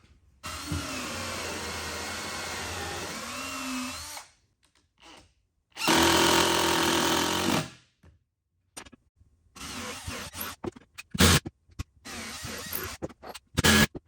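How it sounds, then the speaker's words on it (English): A power drill whines into a wooden coffee table base in several bursts, a long run, a short pause, then another strong burst, followed by intermittent shorter whirs and clattering handling noises. "what I'm going to do is drill into the base, attach the brackets"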